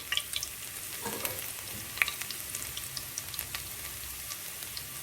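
Garlic cloves fry in hot oil for a dal tadka, giving a soft, steady sizzle with scattered crackles and small pops, fairly quiet and heard on its own.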